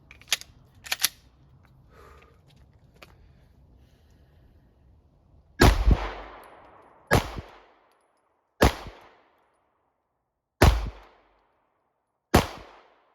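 A rifle fires PMC ammunition in five loud, sharp shots spaced one to two seconds apart, each followed by a short echo. A few faint clicks and handling noises come before the shots.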